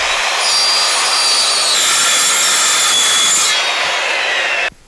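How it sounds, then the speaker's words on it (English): A circular saw rips loudly and continuously through material for several seconds at close range, its pitch shifting slightly partway through, before the cut ends and the blade noise drops away. "I gotta have my circular saw."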